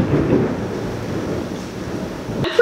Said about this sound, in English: I'm pretty sure you can probably hear the rain at this point